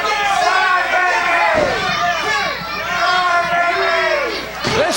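A wrestling crowd jeers loudly at a wrestler, a dense mass of shouting and booing voices that fills the arena and swells and dips.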